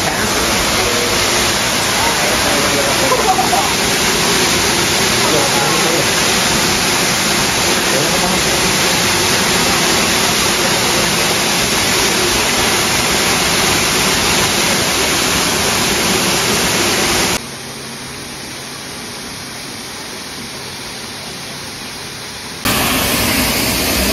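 The waterfall at Rock City Gardens pours in a steady, broadband roar heard from close by, continuous and loud, dropping abruptly in level for a few seconds near the end before returning.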